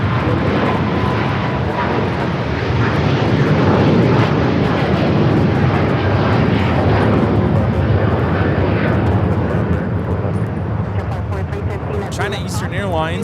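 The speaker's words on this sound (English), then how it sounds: "Airlines 586 taking off to Shanghai on the 777-300ER" A Boeing 777-300ER jet taking off at LAX, its engines a loud, broad sustained roar that swells and holds before easing, with radio voices over it.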